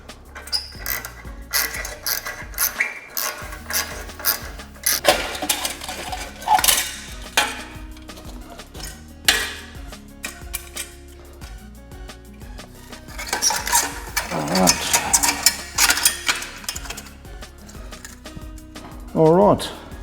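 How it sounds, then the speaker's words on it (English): Metal clicks, clinks and scraping of tools as a hose clamp is worked loose on a Harley-Davidson Sport Glide motorcycle, irregular close bursts with a person talking at points throughout. "Let's get on with removing this hose clamp"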